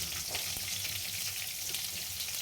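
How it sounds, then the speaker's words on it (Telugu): Onion, curry leaves, green chilli and carrot frying in a pan, an even, continuous sizzle heard close and fairly quiet with no speech. "ఆనియన్, కరివేపాకు అండ్ పచ్చిమిర్చి, క్యారెట్ అవి వేసి మంచిగా ఫ్రై చేసుకోవాలి"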